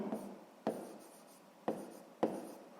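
Pen writing out a sixth-grade math solution on paper, soft close scratching strokes broken by a few sharp taps as the pen touches down, with no talk over it.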